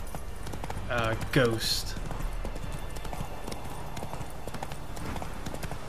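Roach the horse clip-clops along in The Witcher 3, a steady run of close hoof beats throughout, with a brief snort or whinny early and a short spoken word over it.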